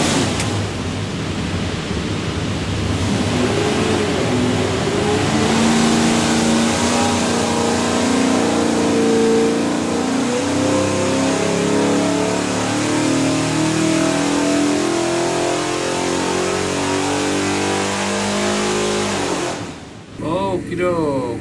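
A custom Ford 302 V8 with a custom-grind hydraulic roller cam and rear sump oil pan, built for a '76 Bronco, revs up under load on a dyno. The pitch climbs loudly and steadily, then cuts off abruptly near the end.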